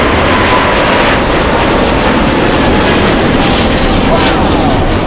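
A heavy airliner takes off from LAX bound for Sydney, its jet engines producing a loud, steady, continuous roar while someone talks over it.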